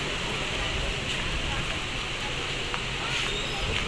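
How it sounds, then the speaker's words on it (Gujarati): Wind and rain outdoors in Rishikesh, heard as a dense, constant roar of gusting wind and rainfall with no clear breaks, fairly loud and close. "અત્યારે બહુ જ પવન છે અને સાથે વરસાદ પણ આવે છે।"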